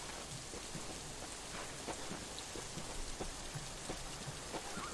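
Steady rain falling in The Isle, a dinosaur survival game set on Isla Nublar, a continuous dense hiss with scattered faint drips and taps and no speech.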